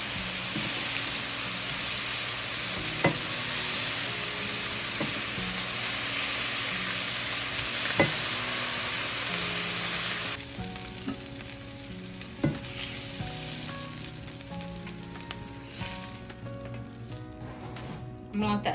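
Sausage frying in a hot pan on a home stovetop, a steady close sizzle that runs throughout with a few sharp clicks and clatters of utensils, easing slightly softer partway through.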